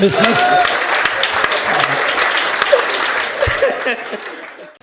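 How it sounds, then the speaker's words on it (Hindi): A comedy show crowd claps loudly for a stand-up performer, with scattered laughter and voices mixed into the dense clapping before it tapers off near the end. "अब एक बार जोरदार तालियां"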